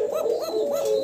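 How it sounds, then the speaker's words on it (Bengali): Male pigeon cooing continuously, three rolling, evenly spaced coos in quick succession, close and clear with no talk over them. "ফারুক ভাইয়ের বিখ্যাত ককা একটানা ডাকতেই থাকবো আপনারা নরের ডাক শুনতেছেন"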